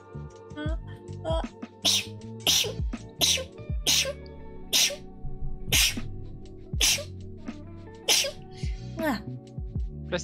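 A person sneezes repeatedly, a rapid series of sharp bursts scattered across several seconds with sniffing and throat sounds between, close and loud.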